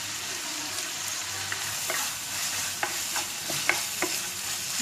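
Chinese fried rice being stirred in a frying pan, a steady sizzle with scattered sharp scrapes and clicks of the utensil against the pan, close and fairly loud, no talk.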